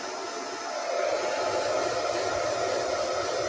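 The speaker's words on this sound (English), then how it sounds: "what the heck is he doing with hair dryer?" A hair dryer blowing steadily to warm Easter eggs, a continuous broadband whoosh that steps up to a higher, stronger setting after about a second and then holds loud and even.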